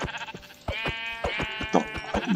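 Sheep bleating in the video game Minecraft, a series of nasal, wavering bleats repeated one after another, close and clear with nothing else underneath.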